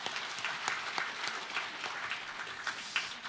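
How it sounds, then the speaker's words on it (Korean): Audience applause at a company anniversary worship service and seventieth birthday banquet for a church elder, held in a banquet hall: a sustained, even wash of many hands clapping, moderately distant, with no talk over it. "이런 우리 훌륭하신 장로님 박수 한번 보내드리겠습니다"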